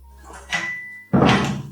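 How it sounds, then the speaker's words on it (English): A door swings and then shuts with a firm thud, preceded by a soft creak and rustle, close and fairly loud. "We close the door."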